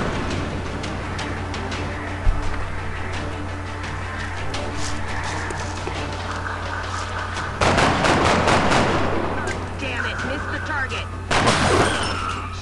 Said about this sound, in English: just go shooting through walls, because you could do that